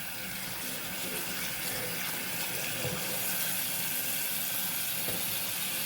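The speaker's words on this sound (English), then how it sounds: "now we're going to rinse" Water running from a tap to rinse a doll's hair, a steady close hiss and splash that continues throughout with no voices.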